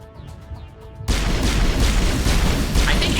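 Sci-fi game combat bursts into loud, dense gunfire and booming impacts after a quieter opening of ambient tones, the shots rapid and close, sustained for several seconds in an action game.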